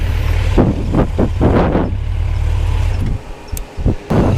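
A Kawasaki Concours motorcycle cruising with a trailer in tow, loaded with old helmets, gives off a steady, loud engine and road drone with buffeting wind noise, several louder surges, and a brief dip in level near the end.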